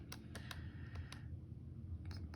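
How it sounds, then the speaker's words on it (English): Quiet keystrokes on a computer keyboard, a few separate taps at an irregular pace, then a pause and a quick cluster of taps near the end, soft and close in a quiet room. "Should probably concentrate on typing this in as accurately as possible"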